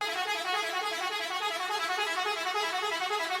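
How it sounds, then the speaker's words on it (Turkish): A deep ship-style horn fitted to a bus in the OMSI 2 driving simulator blares steadily for several seconds, one loud, unbroken, harmonic-rich tone. "Vapur sesi iken böyle."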